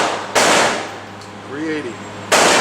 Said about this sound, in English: I like shooting 380s. They're really cool. Let's watch the Smith & Wesson Bodyguard.